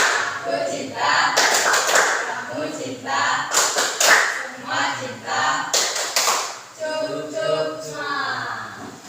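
A classroom group performs the tepuk cinta clapping chant, with sharp bursts of hand claps in a set rhythm alternating with voices chanting together, close and loud.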